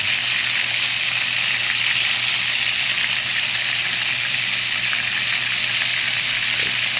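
Three large pieces of tulingan tuna frying in a pan of oil, a loud, continuous hissing sizzle that holds steady without pause.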